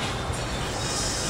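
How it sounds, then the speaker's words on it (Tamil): Steady, dense rumble of trains and rail traffic fills a busy London railway station, a continuous broadband wash with no clear pauses and no voices. "ரயில்வே ஸ்டேஷன் வந்தாச்சு."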